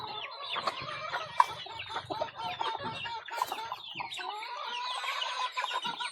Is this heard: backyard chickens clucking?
yes